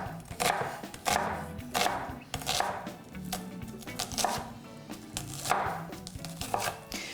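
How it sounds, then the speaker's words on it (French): An onion is chopped with a knife on a cutting board, a steady run of sharp, close knocks repeating roughly every half second to second, with no talking. "Je vais couper l'oignon."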